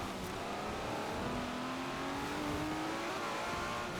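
A race car in a racing video game drives on a wet track in the rain, its engine whining steadily and rising in pitch as it accelerates under a constant hiss, with no talk.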